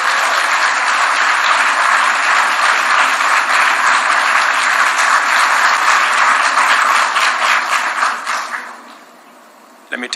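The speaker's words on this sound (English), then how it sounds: "Maybe I could get some more applause" Loud, sustained audience applause at a speech by President William Ruto, a dense crowd clapping steadily for about eight seconds before fading away to near silence.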